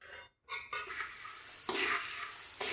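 Roasted poha chivda being stirred in a pot as a spiced oil mixture is added: soft scraping and rustling of the flakes with light utensil clinks, fairly quiet, after a brief pause near the start.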